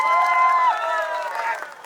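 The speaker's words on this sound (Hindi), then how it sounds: "जोरदार ताली बजा दो।" A large crowd at a political election rally in India claps loudly and steadily for a couple of seconds, with a sustained tone from the loudspeaker system ringing over the applause.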